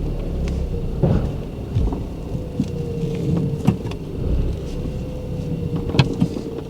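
A flood-damaged car fitted with a replacement engine runs and creeps forward, giving a low, steady rumble with occasional knocks and clunks.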